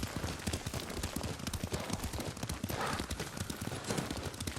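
A horse's hooves clip-clop in a quick, steady gallop while riding in the video game Ghost of Tsushima, loud and continuous with no speech.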